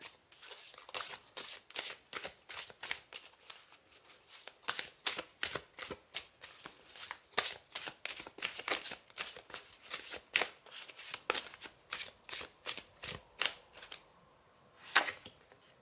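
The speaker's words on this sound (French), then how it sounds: "On va tirer une dernière carte avec l'oracle du soleil." Oracle cards shuffled by hand before a draw, a steady run of crisp riffling snaps and flicks, fairly close, alone with no voice.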